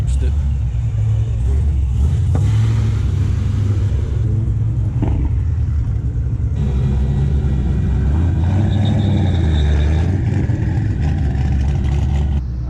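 A Nissan GTR with a modified front end drives past, a loud low engine rumble swelling and fading across the stretch, with people talking over it throughout.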